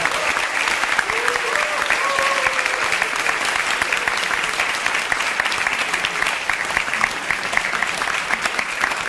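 A large audience applauds continuously to welcome film director Yim Soon-rye onto the stage at a screening talk for the film Jebija (The Whistleblower), a dense, steady wash of clapping that holds evenly throughout.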